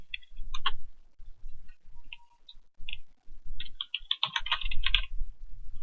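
Bursts of quick keystrokes clatter on a computer keyboard as a code comment is typed, close and clear with short pauses between runs of clicks.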